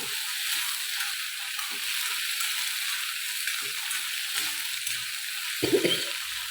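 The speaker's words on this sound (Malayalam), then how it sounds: "വെള്ളം പാരാണ്ട് നമ്മളത് വറുത്തെടുക്കണം കേട്ടോ" Ivy gourd (kovakka) and brinjal fry in a pan without water, giving a steady, even sizzling hiss that runs throughout, with a brief clatter of utensils near the end.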